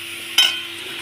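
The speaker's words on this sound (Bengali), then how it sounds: "সব গুঁড়ো মশলা দিয়ে ভালো করে কষিয়ে নেবো জিনিসটা" Ilish fish head and ground spices sauté in a pan with a steady, close sizzle and a single quick stir or scrape partway through.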